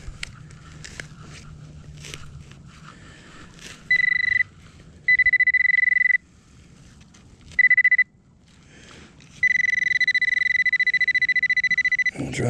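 A metal detector sounds over a dirt plug holding buried coins in a mill town, giving loud, clean electronic tones in separate bursts of varying length, the last one long and sustained, with soft rustling and scraping between them.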